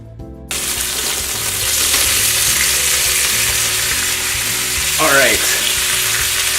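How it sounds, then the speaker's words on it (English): Chicken skin sears loudly in a hot frying pan, a steady close sizzle from start to finish with a brief stir or scrape near the end. "Just gonna sear it again for about a minute, let the skin get nice and crispy."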